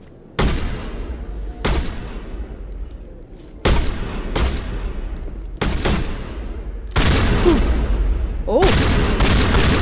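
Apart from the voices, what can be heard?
gunfire in Mass Effect video game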